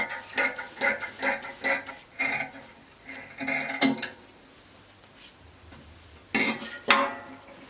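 Fabric for an off-shoulder blouse being cut with scissors, a run of quick rhythmic snips followed by a pause, then two louder close cuts near the end.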